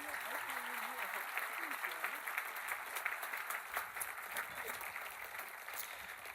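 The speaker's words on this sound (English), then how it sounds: "one more round of applause for our young people?" Steady applause from an outdoor crowd at a memorial gathering, sustained dense clapping throughout, fairly distant and even, with a voice briefly audible underneath.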